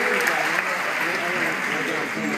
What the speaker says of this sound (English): Please give it up for the spotters.